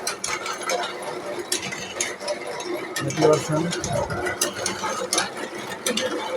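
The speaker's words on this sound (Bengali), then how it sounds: "এটা হচ্ছে মেশিনের অরিজিনাল সাউন্ড" Automatic machine running on a 48/60 V charger, a dense steady mechanical clatter of ratcheting gear-like clicks with brief louder bursts, heard close and continuous throughout.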